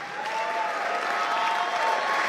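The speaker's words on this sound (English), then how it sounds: "Can you just give yourself a really big hand clap?" A gathering of faith leaders claps for themselves, producing a short, even wash of many hands at moderate loudness, fairly distant and steady, with no talking over it.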